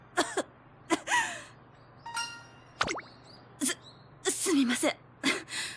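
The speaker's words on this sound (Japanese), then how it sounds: "興奮したら咳が。" A voiced anime-style character in an Uma Musume story scene gives a series of short, sharp coughs and throat-clearing bursts, spaced apart, fairly close and moderately quiet.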